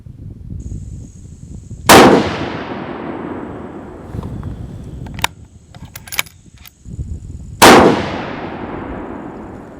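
Two loud, sharp rifle shots fired from a lead sled crack several seconds apart, each with a decaying echo tail, with metallic clinks and handling noises between them.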